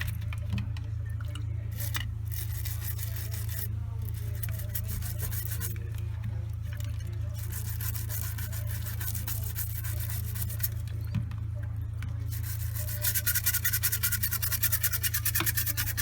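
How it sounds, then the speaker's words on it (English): Threads of a DeVilBiss spray gun pot being scrubbed with a stiff brush, a continuous close rasping scrub with rapid bristle strokes over a steady low background hum, and no talk. "I'll use a stiffer brush for this one. Make sure these threads are clean."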